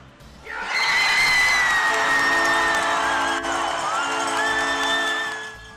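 A sellout hockey crowd in a Waterloo arena roars through a hard-fought, high-energy game, with loud sustained cheering, whoops and shouts and a steady wash of arena noise that fades slightly at the end.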